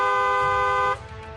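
One sustained car horn blast sounds loud and steady for about a second and then cuts off, leaving quieter traffic noise.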